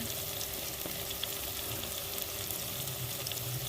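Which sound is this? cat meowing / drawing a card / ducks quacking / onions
onions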